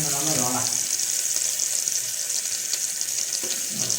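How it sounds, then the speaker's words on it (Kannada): Paneer cubes fry in a pan with a steady bright sizzle throughout, and faint stirring or a voice surfaces briefly in the background. "ಸ್ವಲ್ಪ ಪನ್ನೀರ್ ಹಾಕ್ತಾ ಇದ್ದೀನಿ. ಪನ್ನೀರ್ ಹಾಕ್ಕೊಂಡು ಸ್ವಲ್ಪ ಫ್ರೈ ಮಾಡ್ಕೊಂಡು"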